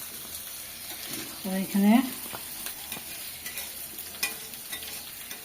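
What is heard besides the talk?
fish frying in oil with onion, garlic, turmeric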